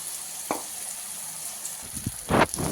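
Sponge gourd and a pinch of asafoetida drop into hot oil with popped mustard seeds for a Kathiyawadi sev galka curry, giving a brief, fairly loud sizzling burst near the end after quiet kitchen background.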